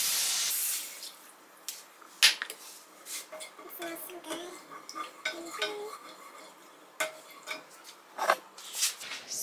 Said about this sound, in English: now we are going to add the beef broth and we're gonna stir it up for about 2 to 3 minutes